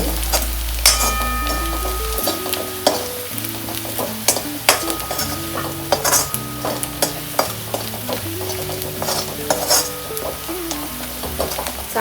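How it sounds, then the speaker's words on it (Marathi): Masala frying in oil for homemade dum biryani, stirred over medium heat: loud, close sizzling with frequent scraping strokes and metallic clinks of a spoon against the pan, no voices. "चांगलं भाजून घेऊया तेल सुटेपर्यंत मसाला चांगला भाजत आलेला आहे"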